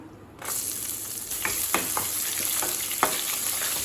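Chillies sauté slowly in a pan over low flame, a soft steady sizzle starting after a brief quiet moment, with occasional utensil scrapes and taps; no voices.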